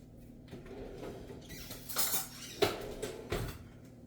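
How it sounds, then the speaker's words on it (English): A spoon is taken out in a home kitchen, giving a few light metallic clinks and rattles of cutlery, with brief louder chinks near the end against a quiet background. "Now all we need to do is get out a spoon"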